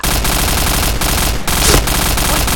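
Rapid automatic gunfire from the online shooter game Point Blank, loud and continuous bursts with brief gaps, heard alone without talk.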